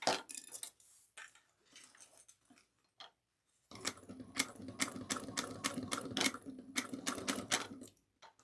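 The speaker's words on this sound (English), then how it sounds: "I'm going to feed this into my machine kind of at an angle, and we're going to sew this at 3/8 of an inch" A sewing machine stitches a cross-body bag at a 3/8-inch seam, fed in at an angle; after a few brief bursts and a pause, a steady rapid run of needle clatter continues for several seconds up close.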